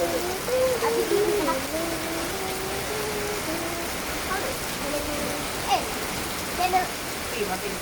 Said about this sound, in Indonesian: di sini makin deras hujan